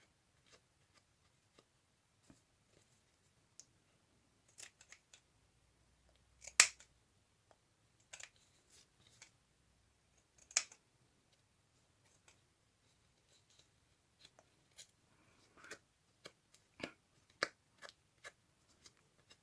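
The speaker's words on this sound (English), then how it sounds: "what I do have to do is cut down the edges, because now it's all very straight" Scissors snip along the frayed edges of leftover lace and trims, giving sparse, quiet clicks and short cuts spaced irregularly, with a few sharper snips in a near-silent room.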